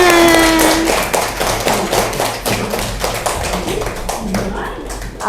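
Classroom of pupils clapping together in an Indonesian school lesson, a burst of dense, fairly loud hand claps and taps lasting several seconds, close and uneven.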